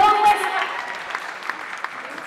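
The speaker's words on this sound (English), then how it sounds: "That's another round of applause." Audience applause in a concert hall, a crowd clapping at a moderate level, with a voice heard briefly at the start before the clapping carries on steadily.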